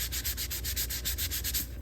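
Hand sanding of Estes Orange Bullet model rocket parts with 220-grit sandpaper, no sanding block, lightly along the grain: a close, steady run of about ten quick rasping strokes in even rhythm.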